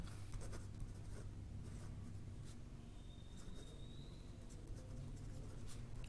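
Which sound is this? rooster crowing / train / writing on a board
writing on a board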